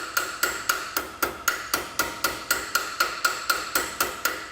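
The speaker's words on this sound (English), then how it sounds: "hammer a lot of those out" Rhythmic metallic hammer taps hammering dents out of a sheet metal car fender, about three per second, evenly spaced and ringing slightly, with no talking.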